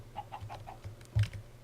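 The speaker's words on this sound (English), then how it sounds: "there's an army of chickens out here." Chickens clucking in Minecraft, a run of short, soft clucks followed by a louder one, close by, with no talk over them.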